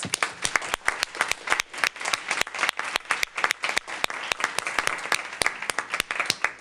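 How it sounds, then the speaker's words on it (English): A room at a school board meeting breaks into dense, sharp applause for a Louisiana high school team, many close hands clapping steadily for several seconds. "Let's give them a round of applause."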